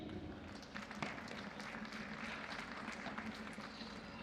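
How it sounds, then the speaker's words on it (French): Applause from the crowd at a padel tournament in Bordeaux for a veteran player, a steady, faint wash of clapping that holds for a few seconds at a distance. "Des applaudissements à Bordeaux pour Pedro Perry."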